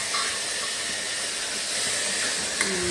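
Tomatoes hit a hot pan of potato subji and sizzle with a loud, steady, close hiss that carries through without a break.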